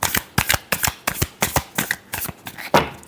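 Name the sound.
shuffling tarot cards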